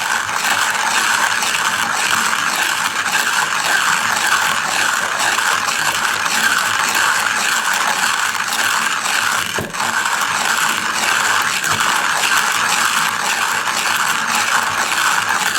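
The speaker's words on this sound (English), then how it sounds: "with a somewhat coarser grinds, it's not going to take as long to grind the same amount of beans" A Hario ceramic hand coffee mill grinds coarse coffee beans with a continuous close, loud crunching ratchet-like rasp that stays steady for the whole stretch without talk.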